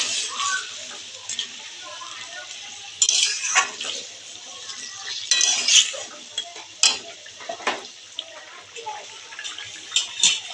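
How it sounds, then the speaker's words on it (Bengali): Fried fish simmers in curry in a pan, a soft bubbling sizzle broken by clinks and scrapes of a ladle stirring, with bursts of louder clatter in the second half. "ভেজে রাখা মাছগুলো দিয়ে তরকারিটা আমি কিছুক্ষণ জাল করে নেব।"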